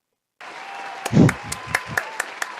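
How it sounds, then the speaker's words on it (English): Audience applause begins abruptly after silence, with a few distinct loud claps punctuating a moderate wash of clapping. "Where's my applause?"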